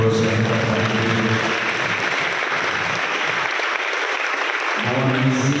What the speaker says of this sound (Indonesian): sekali lagi tepuk tangan untuk calon pengurus yang hari ini